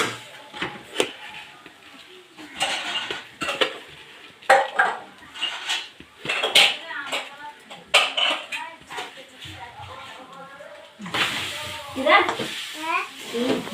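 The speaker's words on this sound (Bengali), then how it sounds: "এখন আমি চিনি দিয়া আস্তে আস্তে" Coconut and sugar stirred slowly in a pan for Bengali-style coconut laddoos, with a spoon scraping and clinking against the metal in steady strokes, close by, under occasional talk.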